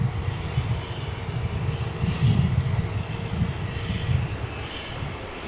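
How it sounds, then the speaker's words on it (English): An airplane at DFW International Airport gives a continuous low engine roar that swells and recedes slightly, heard at a moderate distance and steady for several seconds without speech. "here comes the plane from Shreveport, about to enter your view there"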